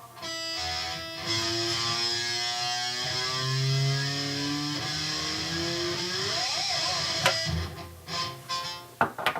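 Sustained distorted electric guitar notes slide smoothly up and down the neck, played with a slide on the pinky, ringing loud and alone before a few sharp picked hits at the end; an intro riff.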